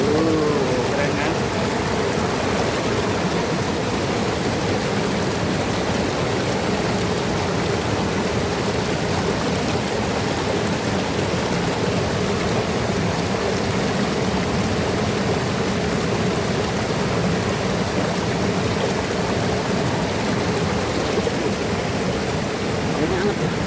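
A river stream rushing beside a steaming hot spring in a valley where a waterfall meets the warm water, a loud, steady, unbroken water roar throughout.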